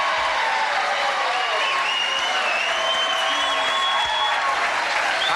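A television game show studio audience applauds, a dense, sustained wash of clapping that fills the room at a steady level, with a few faint whoops and a voice briefly heard under it.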